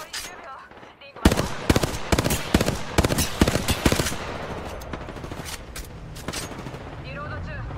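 Rapid bursts of gunfire in Apex Legends: loud, sharp volleys in quick succession, from a dual-wielded Mozambique shotgun among others, with a voice talking underneath and quieter scattered shots near the end.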